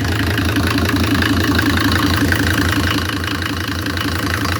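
A Mercedes OM602 2.9 diesel engine warming up idles steadily up close, with an even, rhythmic low diesel clatter and no voices.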